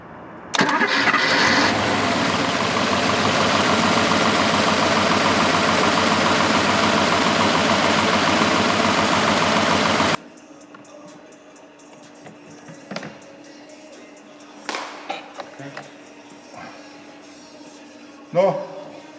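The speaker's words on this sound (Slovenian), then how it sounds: "Za tole zadevo pa težko rečem, da je motor. Prej je to 8-valjni agregat." A Mercedes-Benz 600 eight-cylinder engine runs loud and steady for about ten seconds, then cuts off, leaving a quiet cabin with a few faint clicks and knocks.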